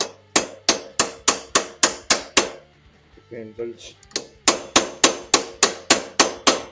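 Steady hammer blows on a Kawasaki KVF 650 ATV gearbox to free a stuck seal, sharp metallic strikes in an even rhythm, a pause with brief quiet speech midway, then the regular blows resume, loud and close.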